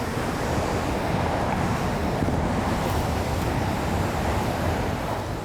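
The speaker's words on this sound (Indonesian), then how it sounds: "Memang sangat terasa sekali derasnya aliran air terjun ini." Rushing waterfall at Curug Sawer in Situgunung, Gede Pangrango National Park, a loud, constant roar of falling water with spray and wind buffeting the microphone, no talking.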